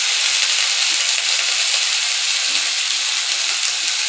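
Green beans and green chillies fry in a hot pan with a loud, steady sizzle that holds evenly throughout, close up and alone.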